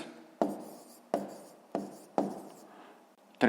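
Hand writing an answer by hand: four or five short scratchy strokes in a steady rhythm, close and fairly quiet, with no talking.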